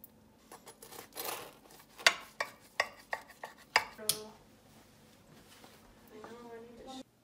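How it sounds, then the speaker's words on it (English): A knife chops through bacon cheeseburger sliders on a board, a run of sharp close clacks and cuts in uneven rhythm, with soft handling noises between. "here's our bacon cheeseburger sliders. So we're going to chop those up"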